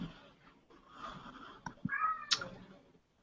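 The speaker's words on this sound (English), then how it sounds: "Is that a cat?" A domestic cat indoors gives a couple of short meows, then a rising, louder meow near the end, over faint room noise and soft breathy sounds.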